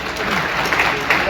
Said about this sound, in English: Can we have a huge round of applause for them?